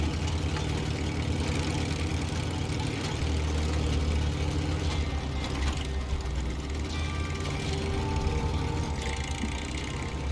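A car engine idles and runs in a video game, with a steady mechanical clatter of working valves, constant and fairly close with no talking over it.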